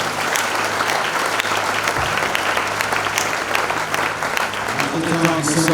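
A church congregation breaks into sustained applause, a dense, even wash of clapping that fills the space from start to finish, with a few voices and a low hum underneath.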